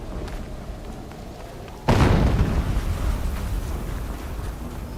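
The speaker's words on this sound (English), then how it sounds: "An explosion." A sudden loud explosion in Horizon Zero Dawn bursts in after a low ambient hum, then decays slowly into a broad rumbling tail, with no voices.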